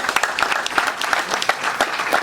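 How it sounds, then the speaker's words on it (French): Audience applause after a motivational speaker's remark at a seminar on making money online, dense and close, with some sharper individual claps and a few whoops over the steady clapping. "applaudissez pour lui"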